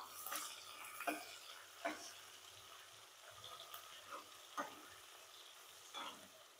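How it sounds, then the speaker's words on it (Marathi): Grated ginger, curry leaves and capsicum slices fry in a pan, giving a soft, quiet sizzle broken by about six spatula scrapes at a slow, uneven pace. "त्याच्यानंतर सिमला मिरचीचे केलेले काप. हे थोडं आपण हलवून घेऊयात."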